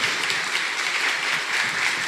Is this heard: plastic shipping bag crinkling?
no